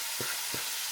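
Sliced cabbage and ham going into a pot for creamy ham and cabbage soup, giving a steady broadband sizzle with three soft, evenly spaced low thumps or stirs heard close up.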